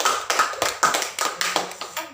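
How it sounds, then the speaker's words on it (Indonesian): A small group of students claps hands in a classroom during a group guidance session, a few uneven bursts of close, sharp claps with brief gaps between them. "Tepuk tangan"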